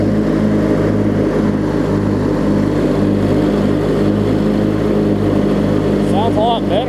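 Craftsman LT1000 riding mower with an opposed-twin engine running steadily close by, a continuous low drone throughout, with a person talking over it.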